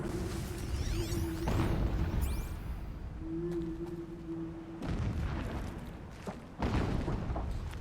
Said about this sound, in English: I'm a little concerned of what the explosions are.